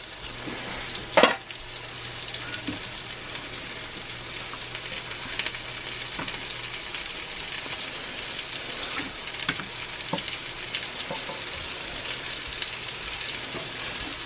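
Bacon frying in a cast iron pan, a continuous dense crackling sizzle with scattered pops and one louder knock early on, steady and close throughout, without any speech.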